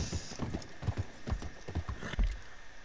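Horse hooves clip-clop at a steady walking rhythm in the video game Red Dead Redemption 2, close and clear, with a faint ambient hum behind them.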